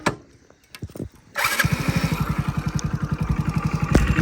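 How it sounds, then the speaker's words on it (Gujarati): A motorbike engine kicks into life after a brief, quiet moment. It settles into a close, loud, evenly pulsing idle with rapid regular firing beats. "હવે મને બાઇક ચાલુ કરવા દે"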